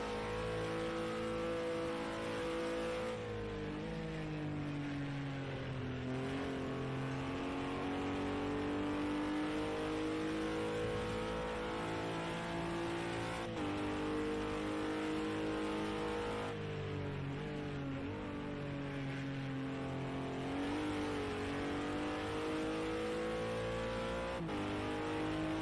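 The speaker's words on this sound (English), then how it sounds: "Enjoy the sound of the engine for a minute." GT4 race car engine lapping Donington in a racing game, a continuous loud drone that rises and falls through gear changes and revs, with no talk over it.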